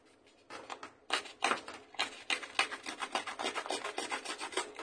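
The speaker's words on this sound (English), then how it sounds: "get my distressing tool and distress the edges quite roughly" A Tim Holtz distressing tool scrapes roughly along card edges in repeated close, raspy strokes that grow steady and rhythmic after a quiet start.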